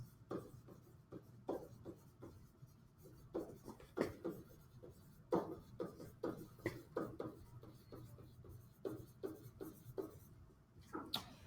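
A pen or marker writes out a probability distribution, producing irregular soft scratches and taps in short strokes, quiet and close, with no talk.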